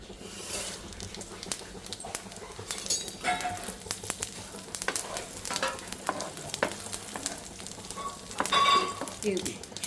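Spices for tempering sizzle in hot oil with crackles and pops up close: cumin, urad dal, mustard seeds and dry chillies. Someone talks over the frying, and a spoon clinks now and then.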